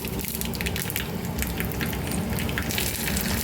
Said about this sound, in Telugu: తాలింపు పిన్నెలో కొంచెం ఆయిల్ వేసి అందులోనే జీలకర్ర ఆవాలు కొంచెం ఎండుమిర్చి కరివేపాకు వేసేసి